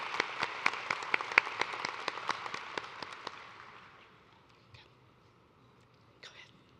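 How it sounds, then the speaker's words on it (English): Audience at a college of nursing convocation ceremony applauding honor students: crisp, fairly sparse clapping in a large room that tapers off after about three seconds, leaving quiet room tone with a couple of faint rustles. "Let's have one more round of applause for all of our amazing honor students this year."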